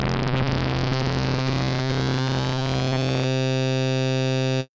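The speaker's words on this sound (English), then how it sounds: "we're going to reach what's called audio rate frequency modulation" Synthesizer filter swept by audio-rate frequency modulation, a loud buzzing, harmonically rich metallic tone with rapid shifting overtones that settles into a steady drone before cutting off abruptly.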